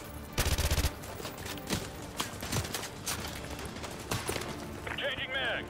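Automatic gunfire in the Call of Duty Modern Warfare 2 Remaster video game, a loud burst of rapid shots near the start followed by scattered battle noise and sporadic fire under soldiers' shouted voices.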